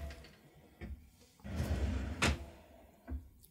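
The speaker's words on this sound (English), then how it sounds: "I'm a huge fan of these soft closed drawers." A soft-close dresser drawer slides shut with a smooth rushing glide and a gentle muffled thud, followed by a couple of quieter knocks nearby.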